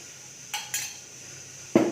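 Metal lid clinks onto a pot of bitter gourd curry in a home kitchen, a few light taps and then one sharper clatter at the end, close and fairly quiet, with no talk.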